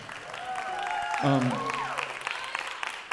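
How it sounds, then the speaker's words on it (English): Applause from a concert audience greeting the University of Memphis Jazz Singers, steady broadband clapping mixed with cheering voices and a whoop, continuing throughout at moderate level. "give them a big round of applause"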